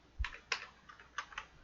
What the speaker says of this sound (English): Ah, yes, I was accidentally typing in here.